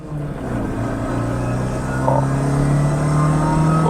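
A 1997–2003 Ford Escort with a Zetec engine accelerates past 3000 rpm, its steady engine drone rising in pitch as it builds speed, heard from inside the car with no talking.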